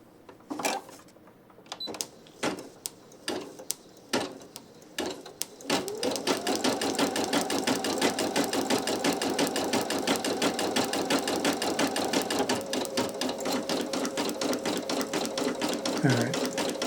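A Brother PE800 embroidery machine stitches satin stitch onto a towel, its needle running in a fast, steady, loud mechanical rhythm after several sharp clicks and taps at the start.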